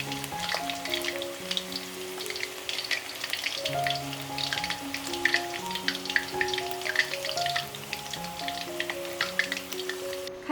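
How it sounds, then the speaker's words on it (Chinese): Battered pork tenderloin pieces for sweet and sour pork being refried over high heat in a small home pot of oil give a steady, dense crackling sizzle throughout, with soft background music underneath. "开大火给它复炸一下"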